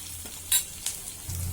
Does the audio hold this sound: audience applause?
no